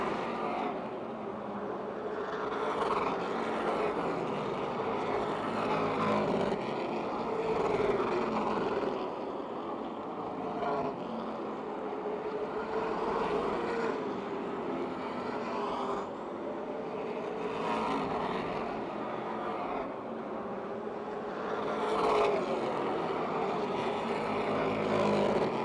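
Race cars lap Motordrome Speedway with a continuous, distant engine roar that swells and recedes in waves as the pack circles the track.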